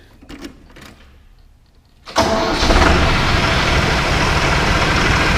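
A Mahindra 8560 tractor engine, quiet at first, then a loud steady roar as it is run up with the PTO engaged, holding at a constant high level.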